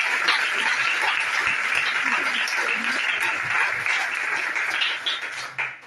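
Church congregation applauding together, a steady dense wash of clapping that holds loud throughout before tapering slightly at the end, with voices mixed in.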